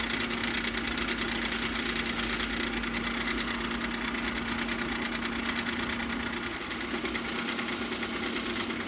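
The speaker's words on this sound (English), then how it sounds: "I'll use this old 400 grit belt to polish it up again." A belt grinder with an old 400 grit belt polishes a faux pattern-welded, hamon-style blade, a loud, constant motor hum and abrasive rasp that eases slightly near the end.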